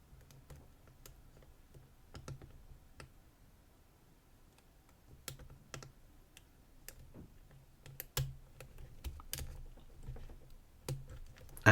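An ISEO Boxer armoured shutter lock is picked in a quiet setting: sparse, sharp metallic clicks and ticks come close up at irregular intervals, growing busier toward the end.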